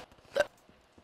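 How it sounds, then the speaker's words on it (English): A single short hiccup, sharp and close, standing out briefly over faint background murmur during a Call of Duty Black Ops III match. "Oh, the hiccups."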